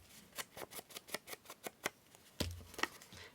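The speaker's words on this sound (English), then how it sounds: "Just going to cut away this bit of the log or twig that he's sitting on." Small scissors snip repeatedly through paper while a log or twig piece is cut out for a junk journal envelope, a quick series of about a dozen crisp close cuts followed by a couple of louder handling sounds.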